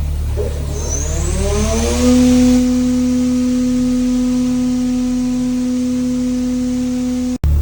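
A Haas UMC-750SS five-axis CNC machine spindle spins up from standstill to maximum RPM, a rising whine that climbs steadily over about two seconds and then holds a loud, steady high-pitched tone.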